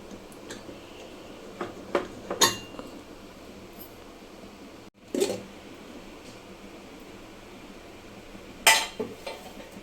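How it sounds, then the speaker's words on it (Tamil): Cooked spinach greens mashed in a pot with a wooden churner, heard as a few scattered clinks and knocks against the vessel over a low steady background hum, no voices. "இப்போ இதை நல்லா கடைஞ்சிடலாம்"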